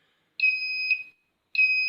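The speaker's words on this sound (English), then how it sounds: "it starts beeping" Transformer monitoring system sounding its over-temperature alarm: two sharp, high electronic beeps, the first held for most of a second, the second starting after a short gap, clear and alone.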